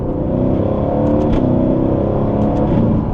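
A car with paddle shifters accelerates hard, its engine droning loud and close as it climbs and shifts gears without letting off, the pitch dipping briefly at each change before rising again.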